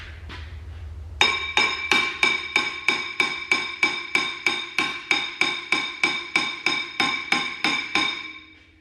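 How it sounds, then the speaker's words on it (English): A hammer strikes a stuck brake disc on a 2016 Kia Rondo over and over, about twenty loud metallic clanks in a steady, evenly spaced rhythm after a brief quiet start. "You may have to give it a couple of whacks in order for it to break free."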